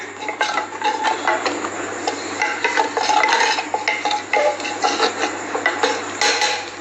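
A spoon stirs red chili powder into a garlic and onion cream sauce over a low flame, giving steady close clatter and scraping against the pan, with a low hum running underneath throughout.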